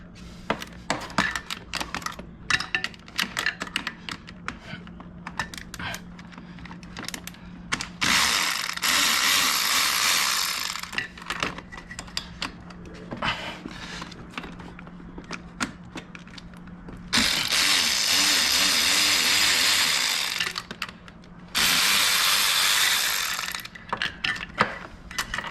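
A ratchet wrench clicks steadily while loosening the cam chain tensioner bolts on a Yamaha YFZ 450 quad engine, with rapid close ratcheting bursts separated by quieter pauses and handling noise.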